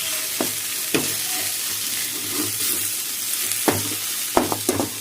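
Coriander and curry leaves fry in hot oil with masala for a chicken curry. The sizzle is a continuous crackle, broken by a few sharp clinks and scrapes from stirring.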